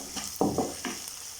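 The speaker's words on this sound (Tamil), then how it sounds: "இப்போ இந்த வெங்காயம் நல்லா வதங்கட்டும்." Onions sautéing in a pan for vendakkai (okra) masala, a short close burst of stirring with a few scraping strokes over soft sizzle, no voices.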